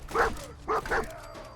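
A dog companion in the video game Fallout 4 gives a few soft barks and yips, three quick close woofs with a whimpering tone, heard alone without talk.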